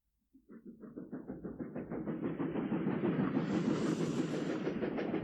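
A train starts up from silence, its rhythmic clickety-clack and chuffing speeding up and growing louder into a steady, full running rumble with hissing overtones, a sound effect with no voices.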